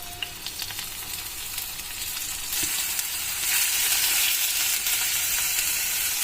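Turmeric and ginger-garlic paste with peanuts stirred in a hot pan while making bitter gourd fry, a continuous close sizzle with a brief clink, growing louder partway through.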